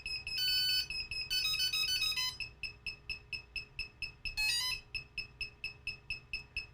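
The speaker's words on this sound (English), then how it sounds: "Why is it beeping?" A drone flight controller board beeps steadily, a close series of short electronic tones with bursts of faster warbling melodic tones mixed in, alone without speech.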